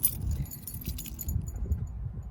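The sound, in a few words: keys jangling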